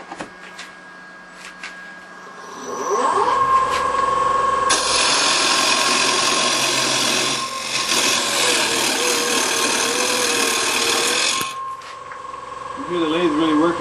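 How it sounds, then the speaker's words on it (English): A wood lathe spinning a blank while a Ci1 Easy Rougher cuts it, producing a loud, continuous rough scraping and whirring that lasts about seven seconds over the motor's steady hum. "You hear the lathe really working there."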